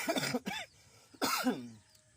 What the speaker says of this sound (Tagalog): Inuubo tayo ngayon